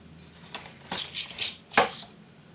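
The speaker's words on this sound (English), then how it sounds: "Let's cut out this piece." Scissors cut through a piece of leftover orange paper in a series of close, crisp snips and rustles, a few quick cuts in a row.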